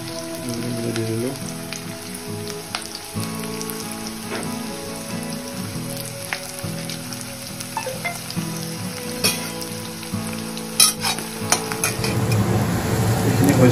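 Silkworms fry in hot oil in a pan, a dense, continuous sizzle and crackle with repeated scraping and clinking of a spatula as they are stirred, close and steady, growing rougher toward the end.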